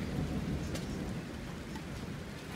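A massive thunderstorm over St Leonards brings a deep rumbling roll of thunder over steady heavy rain, low and continuous, fairly distant and moderately quiet throughout.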